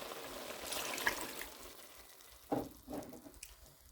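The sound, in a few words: cup of water added to cooking chicken and potatoes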